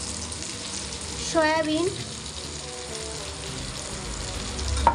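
Potatoes dropped into a pan of soybean curry with spices, giving a steady sizzle that swells briefly as they land, with a voice speaking over the frying.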